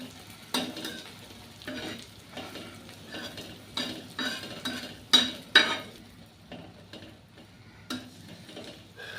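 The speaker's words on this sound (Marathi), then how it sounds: "दोन्ही साईड ते 4 मिनटं आपल्याला त्याला फ्राय करायचं आहे." An egg omelette fries in a pan with a low, steady sizzle. Repeated scraping and stirring knocks from a utensil come through close, with a few sharper clicks midway.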